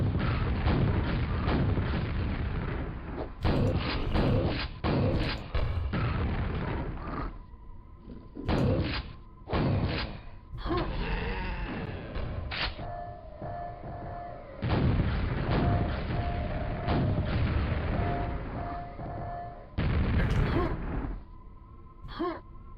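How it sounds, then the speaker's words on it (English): Rocket jump explosions in Quake, repeated loud thumping blasts in irregular bursts with quieter game sounds between them, close and punchy. "I grabbed the super nail gun and turned around for my funny rocket jump trick"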